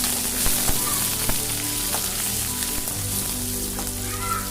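Sliced big onions, a few curry leaves and two cut dried red chilies frying in oil, a steady low sizzle running throughout with faint occasional pops.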